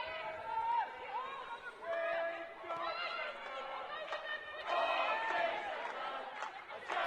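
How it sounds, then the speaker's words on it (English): Crowd at Kingsmeadow during a Women's FA Cup quarter-final between Chelsea and Birmingham City, a steady murmur of chatter and vocal appreciation rising in waves over several seconds, with scattered shouts above the hum. "the Kingsmeadow crowd vocal in appreciation of what they've seen"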